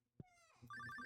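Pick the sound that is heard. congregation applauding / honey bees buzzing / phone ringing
phone ringing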